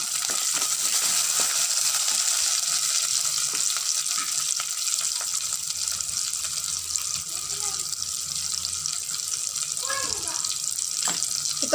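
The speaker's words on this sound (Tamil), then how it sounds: "ஒரு கைப்பிடி அளவுக்கு சின்ன வெங்காயத்தை சேர்த்துக்கலாம். லைட்டாக வதக்கி விட்டுக்கலாம்." Small onions, or shallots, sautéing in a pan for a fish curry, giving a steady sizzle with occasional stirring clinks and scrapes throughout, close and fairly loud, with no talking.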